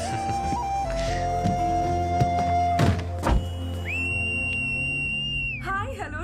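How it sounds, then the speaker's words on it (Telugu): A loud, sustained whistle rings out alone, holding a high steady pitch for over a second before breaking off, after a few dull thumps. "ఏంట్రా ఈ పిల్ల రౌడీలాగా విజిలేస్తుంది"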